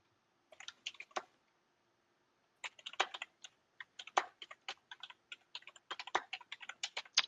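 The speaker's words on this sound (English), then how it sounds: "I started typing before doing my tokens" Close, crisp typing on a computer keyboard in bursts of rapid key clicks, a brief flurry, a pause, then a longer run of uneven taps during a Twilight Imperium tournament game.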